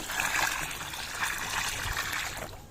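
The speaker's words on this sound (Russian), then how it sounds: "Вот хлор растворен, и можно выливать его в бассейн по периметру." Dissolved chlorine solution poured from a bucket into a swimming pool, a steady close splashing trickle of liquid that continues without pause and fades slightly at the end.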